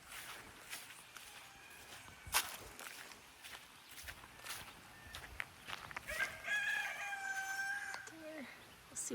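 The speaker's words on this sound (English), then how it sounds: "My rooster and the neighbor's rooster have crow-offs." Two roosters in a zone 6 garden crow back and forth, the calls standing out toward the end over soft outdoor background noise and footsteps, at moderate distance.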